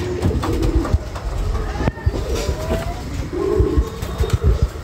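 Young pigeons in an earthen pigeon house coo in loud, close bursts amid busy clattering and scuffling knocks, with a brief dip partway through.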